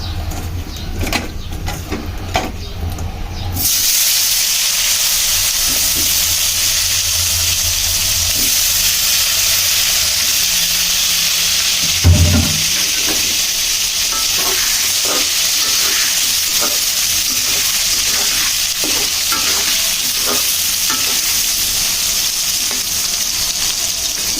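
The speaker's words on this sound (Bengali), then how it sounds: "এখন মাছ ভাজার তেলে আলুগুলোকে ভেজে নিব সুন্দর করে" Potatoes with a little turmeric fry in hot oil left over from frying koi fish, sizzling loudly and steadily, with a quieter start and then constant bubbling hiss and occasional stirring scrapes close by.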